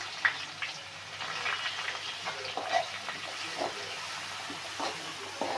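Onions frying in hot oil, a low sizzling crackle with occasional stirring scrapes, fairly quiet and close.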